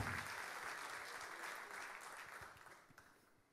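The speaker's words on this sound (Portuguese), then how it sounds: "Aplauda o nome do Senhor Jesus nessa manhã" A church congregation claps together during a morning service, a broad, fairly soft wash of applause that slowly fades toward the end.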